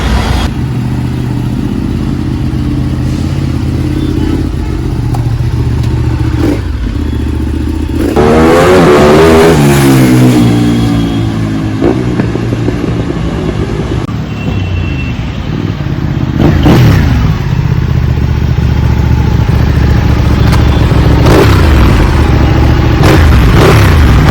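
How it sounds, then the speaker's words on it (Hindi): Ducati Panigale superbike with stock exhaust, its engine loud and close, revving up and down in sharp sweeps over a rumbling idle, then accelerating and clattering again later. "ये थी कुछ आवाज़ दुकाटी पैनिक आले की विद स्टॉक एग्जॉस्ट"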